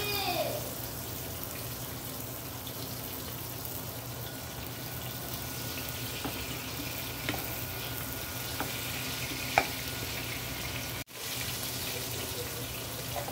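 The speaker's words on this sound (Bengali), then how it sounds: "মাছটা প্রথমে আমি এখানে ভেজে নিচ্ছি নুন হলুদ দিয়ে।" Prawns frying in a pan with salt and turmeric give a steady, close, even sizzle that runs on without a break, with a few faint clicks of utensils and one short drop in the middle.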